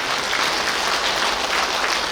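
Steady, dense audience applause fills the room after a book-launch speech for author Shin Seong-sik, sustained and even without a break.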